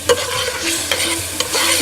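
Chicken curry with tomato is stirred in a pot, a spoon scraping and clacking against the sides in a few quick strokes over a soft, steady sizzle.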